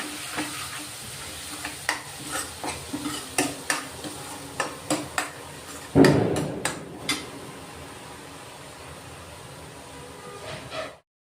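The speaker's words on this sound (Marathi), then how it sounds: "आता तेल सुटेपर्यंत हे वाटण आहे ना आपण चांगलं परतून घेऊ." A thick ground masala paste sizzles in oil while a spoon scrapes and stirs the pan in steady repeated strokes, with one louder clatter midway, for a fish curry.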